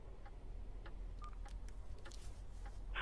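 A telephone keypad sends a quiet series of short dialing tones, spaced irregularly over a low background hum, with no speech.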